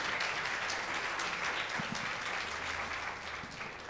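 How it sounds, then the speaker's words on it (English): Audience applause for a first-time chaperone back from a church mission trip: dense, steady clapping from a group, moderately loud and even, fading slightly toward the end. "Give Amy a round of applause on this."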